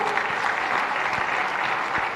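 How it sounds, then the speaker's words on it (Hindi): Audience applause at a Jain religious discourse in India, a steady wash of many hands clapping together, loud and continuous throughout. "जरा जोरदार तालियां।"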